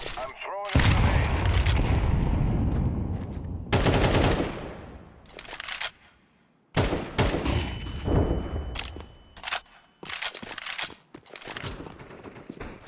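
A grenade is thrown and explodes during a Counter-Strike 2 match, with several loud, sharp blasts and bursts of rapid gunfire separated by brief near-silent gaps.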